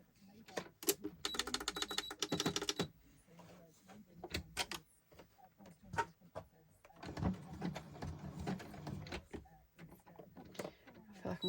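A sewing machine stitches junk journal pages in two short bursts of rapid mechanical clatter, separated by clicks and handling noises, with a voice speaking quietly in between.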